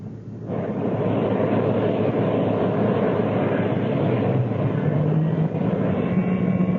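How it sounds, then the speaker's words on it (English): Aircraft engines spin up as a radio drama sound effect. After a brief quiet start, the engines rise quickly into a loud, sustained droning roar that holds steady to the end, with a tonal whine entering later. "Fire up your engines."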